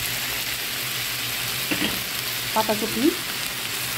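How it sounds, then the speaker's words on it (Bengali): Capsicum and cabbage frying on high heat in a pan, giving a steady soft sizzle with a few brief stirring scrapes, under a short spoken word. "হাই হিটে ভেজে নেব এই সবজিগুলো"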